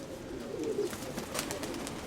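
A pigeon coos softly against steady background noise, a low, brief murmuring call near the middle of the clip, with faint clicking sounds afterward.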